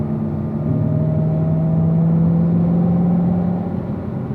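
On a long straightaway a car accelerates and upshifts from third to fourth to fifth, the loud engine whine climbing in pitch over a steady rumble before easing off near the end, no speech.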